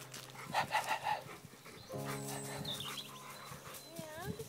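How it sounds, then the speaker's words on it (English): A dog pants in quick, breathy bursts nearby, mixed with voices and other animal sounds outdoors. "there's a dog"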